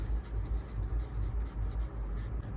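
A pen scratches across paper while writing Hindi shorthand: close, quiet, rapid strokes in short bursts with brief pauses between them.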